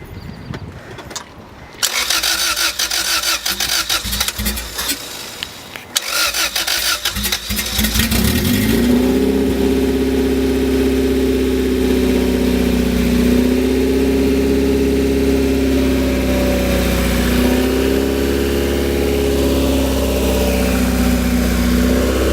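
A Honda B16A2 engine in a 1998 Integra, swapped in and fired for the first time, cranks briefly, stalls, then catches and settles into a loud, steady idle that rises and falls slightly, with no talk over it.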